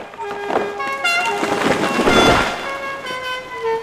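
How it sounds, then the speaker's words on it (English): A loud car horn honks repeatedly in short toots over a rumbling, noisy background, with the sound of the flying Ford Anglia car arriving in a forest clearing full of giant spiders. "Then suddenly, there is a loud honking noise."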